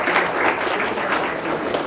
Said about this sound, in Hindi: अपने लिए ताली बजा दो।